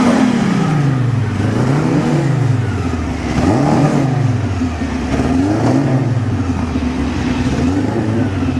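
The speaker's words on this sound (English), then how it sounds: "interesting pair of cars running about the same speed" Drag racing cars roar down the strip at a 2006 street challenge, engines droning loud and continuous with repeated rising and falling pitch sweeps as they accelerate.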